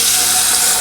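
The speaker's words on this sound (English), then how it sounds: "So we're going to fill that with water." Water runs steadily from a tap into the tank of a Sage Barista Express espresso machine, a loud, close, continuous splashing hiss across the brief moment.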